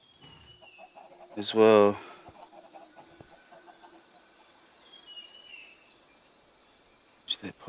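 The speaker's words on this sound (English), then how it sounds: "I'm doing some experiments with chickens" Chickens clucking in the video game Minecraft 1.16: one loud burst of clucks early on, with a few faint clicks near the end over a steady insect-like hum and a brief spoken phrase.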